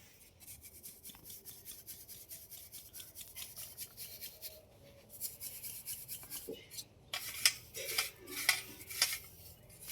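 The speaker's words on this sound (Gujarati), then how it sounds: "ચાળણીની મદદથી ચાળી લેવાનું." Powder for homemade dhoop incense is sifted through a sieve, giving faint, rhythmic scratchy strokes with light metallic taps, growing louder and more irregular toward the end.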